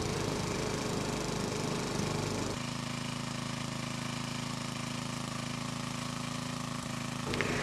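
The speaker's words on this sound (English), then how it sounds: "nurse the generator along and keep it going" A generator engine that is running poorly and burning a lot of fuel runs steadily with a droning, mechanical hum that shifts pitch slightly partway through, loud and close, with no voices.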